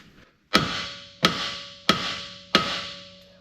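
A hammer strikes a tapered steering stud on an offroad wrecker's full hydraulic steering four times at an even pace, each hit a sharp, close metallic clang that rings briefly and fades, with no talking.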